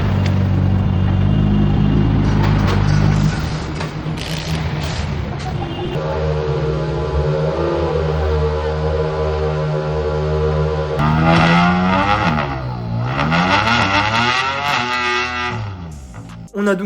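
Rally car engines rev at a rally service park in Portugal during a WRC event, with loud sustained engine drone rising and falling, heavily distorted, and rapid pitch sweeps as throttles are blipped.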